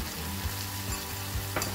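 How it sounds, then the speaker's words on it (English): Thai curry paste and garlic with Kashmiri red chili powder and tamarind pulp sizzle and fry steadily in a pan, a close, continuous crackle with a few stirring scrapes and no talking. "Saute this till the raw smell of that 2 tablespoon masala is gone"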